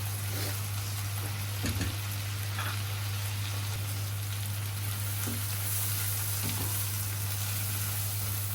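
Fish curry with bitter gourd sautéing in a pan, a steady close sizzle and crackle of frying oil running throughout, with a few faint clinks of stirring.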